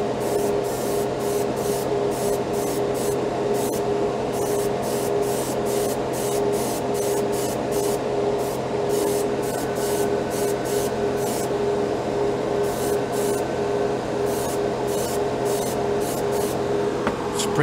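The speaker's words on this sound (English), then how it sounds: "Sprayed on really good." Aerosol can of matte spray paint hissing in a steady, close stream for a long stretch, with repeated short bursts of spray high in the mix over a constant background hum.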